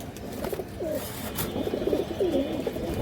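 Pigeons, a pair of big black birds among a loft of fancy breeds, coo in repeated soft rolling calls over a low background hum, close by and fairly quiet.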